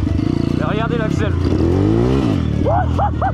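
A motorcycle engine revs and changes pitch while a first-time rider covers a long distance, loud and close, with someone talking over the rising and falling engine tone.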